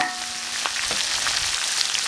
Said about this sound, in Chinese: 加入姜蒜、干辣椒、干花椒，炒。